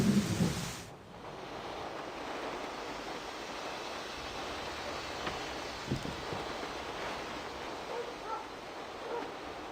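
A thunderstorm rumbles in Syberia: The World Before, with steady rain hiss and low rolling thunder continuing under a broad noisy wash; a brief louder burst opens it before settling into the even storm.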